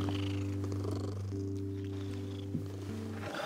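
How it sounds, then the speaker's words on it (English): A soft, friendly cat purring up close: a steady, low rhythmic rumble that continues evenly throughout with no talking over it. "She's purring."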